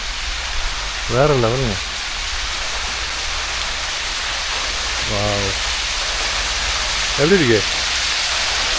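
A waterfall at Wadi Shees in the UAE gives a constant, loud broadband rush, a steady roar that continues beneath a few brief spoken phrases.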